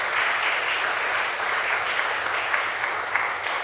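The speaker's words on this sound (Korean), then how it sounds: "박수로 환영하겠습니다" A church congregation applauds during a Sunday worship service to welcome visitors, a steady, dense clapping that holds evenly throughout with no pauses and no voices over it.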